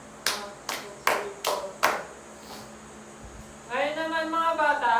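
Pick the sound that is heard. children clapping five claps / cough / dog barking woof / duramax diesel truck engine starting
children clapping five claps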